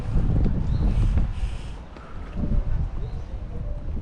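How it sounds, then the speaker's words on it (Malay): Strong, cold wind buffets the microphone outdoors on a trip in Busan, South Korea, giving a loud low rumble that surges and eases across the clip, with faint voices under it. "kenapalah angin kuat sangat"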